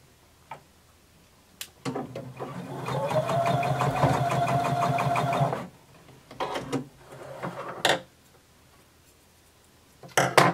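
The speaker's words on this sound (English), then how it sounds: "we're going to sew down and across" A domestic sewing machine stitching fabric, a close rapid ticking hum of the needle running in one sustained burst of a few seconds, followed by shorter stops and starts as the seam pivots.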